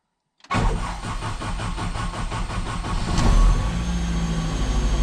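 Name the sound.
K20-engined Mazda RX7 engine starting up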